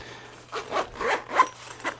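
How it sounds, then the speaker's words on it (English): A zipper on a GBG Mighty Pouch Plus kit is pulled closed in several short, scratchy zipping strokes, close and fairly quiet, with no talking. "We're going to fold it up and see how it zips up."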